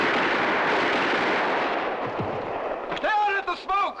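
Cannon and musket volley fire in a period battle scene, a broad loud roar of gunfire and rumbling blasts that fades, followed by a shouted voice at the end.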